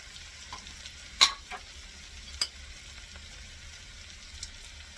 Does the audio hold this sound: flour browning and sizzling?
yes